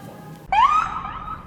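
A police siren near the U.S. Capitol in Washington, D.C. abruptly starts and wails upward in pitch, one clear rising sweep that then holds, fairly loud over quiet traffic background.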